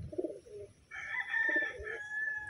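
A Taiwan hen calls close by, a short low cluck followed by a sustained higher-pitched crowing call that rises and holds steady.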